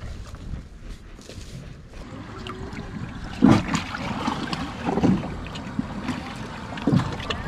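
An old boat engine, tuned up yearly, runs steadily on the water along Canada's west coast, a constant near drone mixed with wind and water wash, with a few louder thumps from the hull.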